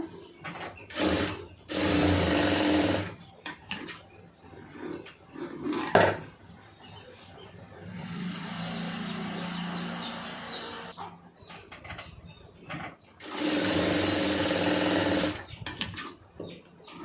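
A sewing machine stitches fabric piping in two loud, close bursts, with a quieter stretch of softer whirring between them and brief handling clicks.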